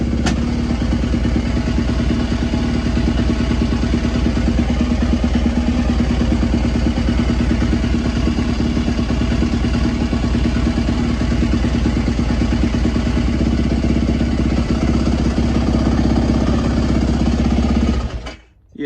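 Dirt bike engine idling on E85 fuel, a loud, close, steady chugging rumble that holds evenly for almost twenty seconds before cutting out.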